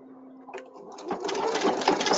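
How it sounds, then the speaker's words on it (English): A Viking/Pfaff sewing machine stitches an apron, starting from a brief low hum and building into a steady, close mechanical whirr of rapid needle strokes. "sew until it stops, turn it back, and sew until it stops."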